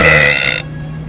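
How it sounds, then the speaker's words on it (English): A single loud, drawn-out burp from a man, strong and close for about half a second, then cutting off into a quiet room hum. "my special talent is that I can burp really loud"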